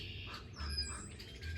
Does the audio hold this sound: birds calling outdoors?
yes